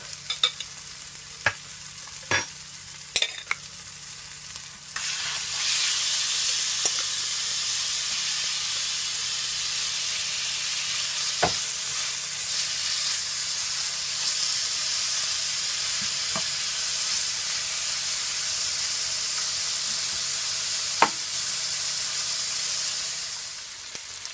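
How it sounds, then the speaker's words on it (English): Steak frying in a pan, a loud, steady sizzle that starts abruptly after a few light clinks and carries on close and unbroken, with scattered small clatters. "So after 1 minute, I'm gonna add my steak."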